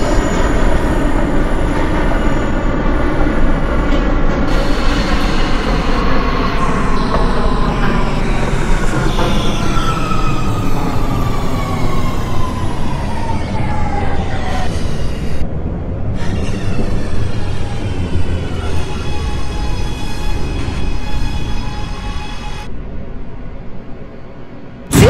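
R211T subway train on the C local line in an OpenBVE simulation, running bound for Brooklyn with a loud continuous rumble, rising and falling motor whine, and wheel squeals and screeches over most of the run before it eases off.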